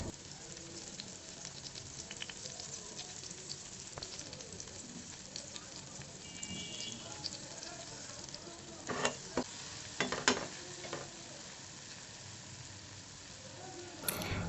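Onion and tomato fry with spices in a pan for an egg fry, a soft, continuous sizzle with occasional stirring clinks and scrapes, a few sharper utensil knocks near the end.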